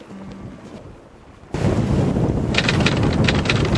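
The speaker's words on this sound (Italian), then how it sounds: "Ora il vento soffia forte e il mare mi sbatacchia di qua e di là." Strong wind and rough sea toss a small boat at night, the roar bursting in loud and buffeting after a short, quieter stretch of low rumble.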